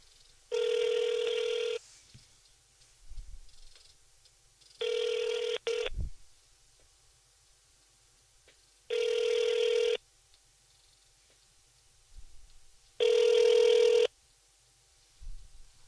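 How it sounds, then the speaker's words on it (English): A telephone rings four times in long, evenly spaced bursts separated by silent gaps, heard in a talk radio studio. "his phone has been ringing"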